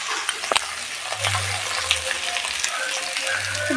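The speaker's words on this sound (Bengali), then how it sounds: "ভালোভাবে আমি এখন ভাজবো এটাকে কষাবো" Rice frying in a pot for basanti pulao, a continuous close sizzle broken by a few sharp clicks and low scraping stirs, with no voices.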